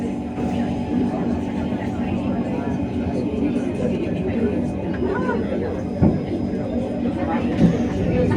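Singapore MRT train ride toward Chinese Garden station near Jurong, with a steady rumble of the carriage running on rails under continuous passenger chatter and a few brief knocks.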